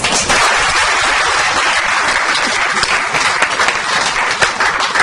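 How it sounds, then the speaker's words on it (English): An audience gives a loud, dense round of applause at a joint installation ceremony of two Toastmasters clubs in West Delhi and Dwarka. The clapping is close and sustained for the full five seconds. "So let's have a round of applause for all of us."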